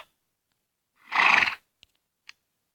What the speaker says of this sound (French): Voilà, on a un cheval.